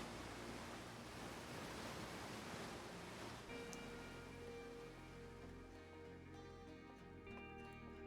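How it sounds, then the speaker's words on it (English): A loud, steady rushing roar of a waterfall in a video game, broad and continuous at first, then joined by sustained musical tones as the roar continues underneath. "Dang, that waterfall was loud."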